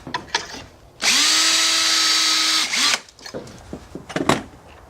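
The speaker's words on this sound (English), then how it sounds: "and drill this hole." A power drill whirs steadily for about two seconds as it bores into wood, loud and close, with handling clatter before and after.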